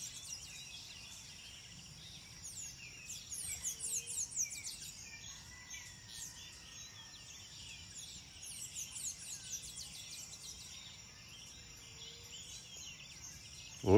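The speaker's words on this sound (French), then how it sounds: "le chant des oiseaux, le réveil matin costaricain." Birdsong fills a Costa Rican morning: many faint, distant chirps and trills overlapping above a low steady hum of insects, with no talking.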